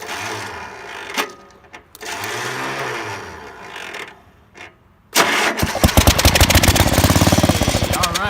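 A small engine running on carb cleaner cranks with a couple of sputtering false starts, then catches and runs with a loud, rapid, rattling idle.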